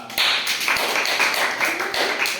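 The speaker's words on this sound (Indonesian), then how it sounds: "Oke, beri tepuk tangan untuk Prima" A classroom of students claps for a classmate, with a short burst of close, brisk hand claps that starts abruptly and continues fairly loudly to the end.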